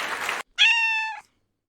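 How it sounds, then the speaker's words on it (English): A single clear cat meow, close and loud, rings out for about half a second just after a brief burst of noise, then silence. "It's a cat."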